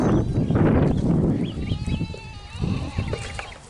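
A small black-and-white goat on a farm bleating, several wavering calls close by, with other goats and faint poultry in the background.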